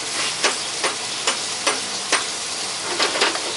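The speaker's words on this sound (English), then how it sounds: "Time to flip our asparagus." Asparagus fries in a hot pan with a constant bright sizzle, broken by a series of crisp scraping strokes as the spears are flipped and stirred, close up with no talking.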